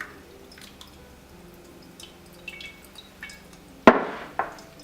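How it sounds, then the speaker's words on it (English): Kefir draining through the small holes of a strainer, heard as faint, scattered drips followed by two louder clinks against the strainer in a quiet room. "And just help it through the little holes here, and it just drains off."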